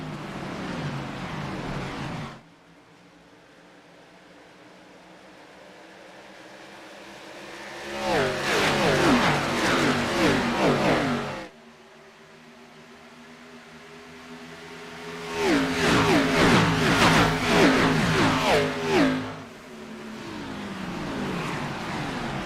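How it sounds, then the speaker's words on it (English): NASCAR Xfinity Series race cars at Pocono Raceway roar past in two loud waves, engines swelling from a distant drone to a close, harsh howl before fading. "enjoy the sounds of Monday Night NASCAR Xfinity Series"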